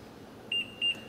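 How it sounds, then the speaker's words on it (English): A kitchen timer in the Cooking Mama video game gives two short, bright, evenly spaced electronic beeps, clear and close over a quiet background. "And you set the timer."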